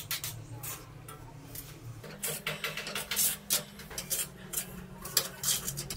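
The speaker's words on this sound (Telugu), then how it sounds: "ఫ్లేమ్ని సిమ్ మీద పెట్టి ఈ పౌడర్ని వేసుకుంటూ కలపాలి." Makhana laddu powder stirred in a pan over a low flame, a continuous scraping rhythm of a spoon against metal that turns busier and louder partway through, with small clinks and no talking.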